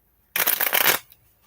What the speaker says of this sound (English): Let's just shuffle again.